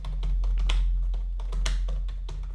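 Irregular clicks of computer keyboard keys being typed while commenting out Python code, a steady run of close, crisp taps over a low hum.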